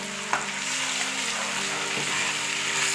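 Tomato puree fries in a pan with browned onion and garlic for palak paneer, giving a steady loud sizzle with a couple of scraping stirs.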